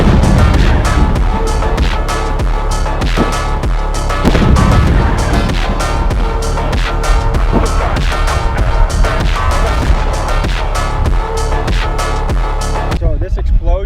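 Loud, dense explosive blasts and booming bangs from a Navy SEAL training exercise pile up continuously over about fourteen seconds, with sharp repeated cracks and thuds and heavy low rumble throughout.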